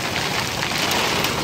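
Steady heavy rain hisses down during a hail storm, a dense, even wash of sound close by with no voices.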